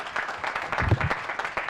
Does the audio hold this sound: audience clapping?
yes